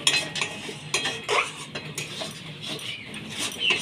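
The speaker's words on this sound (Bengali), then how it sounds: "এবার একটু নেড়ে নেব।" A spoon stirs and scrapes a vegetarian bitter gourd curry in a pan, making close, irregular metallic clinks and scrapes over a few seconds with no talking.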